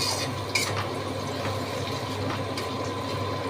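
Onions and sugar stirred fast in a pan over a high flame so they caramelize, giving a steady close scraping and sizzling rustle with faint clinks throughout.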